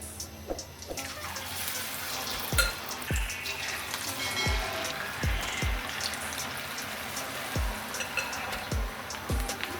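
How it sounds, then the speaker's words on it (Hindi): Spinach pakoras drop one by one into hot oil, a soft steady sizzle punctuated by about nine separate plops and splutters as each piece of battered spinach goes in, close by. "ऑयल गर्म हो गया, अब इसमें हम पकौड़े डालना शुरू करते हैं।"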